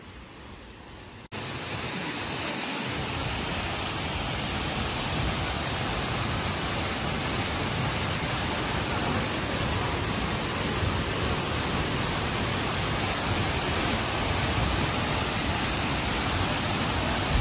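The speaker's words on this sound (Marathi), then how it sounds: "धबधबा दाखवणार आहे मी आता." Steady, loud, broadband roar of a waterfall, close by and continuous throughout, with no voices.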